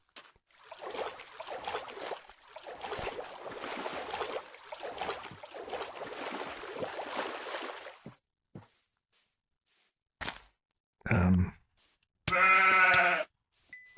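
Sheep in the survival game RealmCraft VR give two short, close bleats near the end, following a stretch of steady rustling and shuffling noise.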